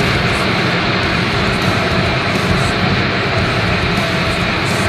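Daihatsu Ayla LCGC 1000cc car cruising near 120 km/h, a loud continuous engine, road and wind roar from inside the cabin, steady without breaks.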